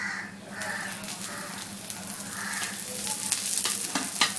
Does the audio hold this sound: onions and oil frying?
yes